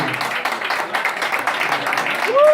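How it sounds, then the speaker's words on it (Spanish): Audience applause for the performer Kiko Show at a club show in València, a loud, even patter of many hands clapping that carries on steadily, with a brief whistle near the end. "fuerte aplauso para Kiko Show"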